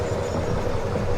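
A freight train rolls slowly while shunting cars around a harbor and town, a steady low rumble of wheels and cars continuing alone without voices.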